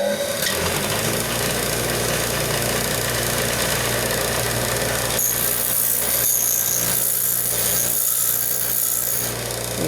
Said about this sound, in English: But I'm going to use the grinder.